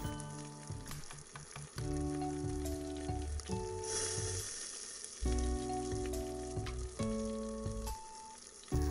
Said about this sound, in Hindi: अब बाकी भी सब्जियां डाल के अच्छे से मिक्स कर लेते हैं।